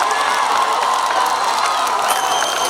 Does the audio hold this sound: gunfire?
no